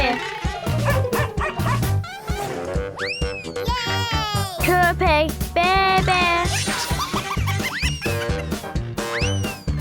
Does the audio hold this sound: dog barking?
yes